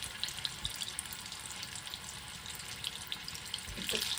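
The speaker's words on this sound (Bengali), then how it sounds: "আমি প্রত্যেকটা প্রন ভেজে নেব।" Prawns fry in a wok on a gas stove, giving a steady low sizzle with watery crackle and a few soft clinks, close and continuous with no talking.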